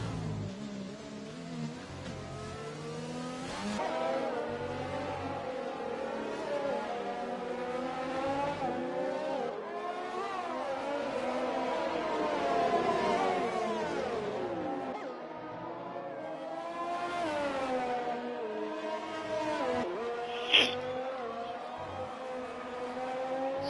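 Formula 3 race cars in the iRacing video game at a Brazil circuit, engines revving and shifting continuously as several cars run close together, with pitch rising and falling through gears and a brief sharp squeal near the end.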